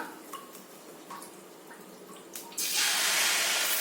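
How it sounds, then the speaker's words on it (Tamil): Instant dosa batter hits a hot tawa and bursts into a loud, steady sizzle partway through. Before that come quieter kitchen clinks and light taps. "இப்போ சட்டி சூடாயிருச்சு நம்ம தோசை ஊற்றிடலாம்"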